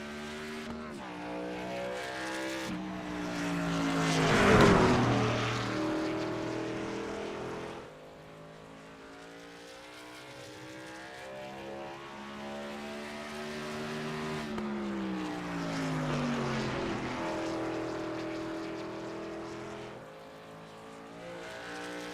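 Race truck engines roar around the Richmond oval in a racing game, among them a Toyota Tundra TRD Pro, with harmonic whines rising and falling as the trucks pass and shift, loudest early, in a steady dense pack with no talk.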